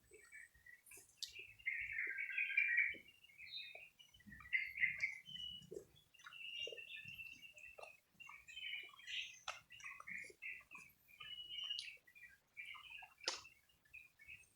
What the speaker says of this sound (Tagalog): Baka ibon yun.